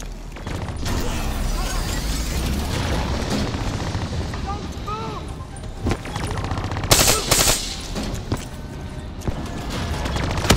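A hijacked turret fires in the Call of Duty: Black Ops 3 campaign, a loud sustained rattle of automatic gunfire with explosive bursts layered over other battle noise, while players talk over it.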